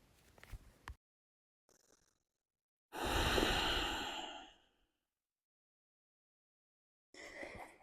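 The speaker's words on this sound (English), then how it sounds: "a couple of breaths here." During yoga relaxation, slow breathing comes through in soft, faint bursts, with one long, fuller exhale like a sigh in the middle and quiet pauses between breaths.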